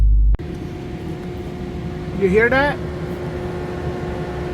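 A Dodge SRT running its race cool-down cooling system makes a steady mechanical whir with a constant tonal hum, swelling briefly midway, while a person speaks close by.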